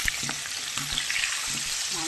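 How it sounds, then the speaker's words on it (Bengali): Onions drop into hot oil for a chicken dish, a dense, bright sizzle that fills the whole stretch, with faint stirring scrapes and soft knocks of a utensil against the pan. "এই যে পেঁয়াজ তেলের মধ্যে ছেড়ে দিচ্ছি"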